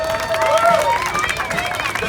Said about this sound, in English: To our Saudi fan club here, they are cheering